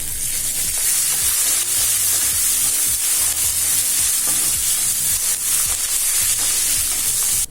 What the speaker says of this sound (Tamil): நல்ல முந்திரி கலர் மாறுற வரைக்கும் வறுத்துக்கலாங்க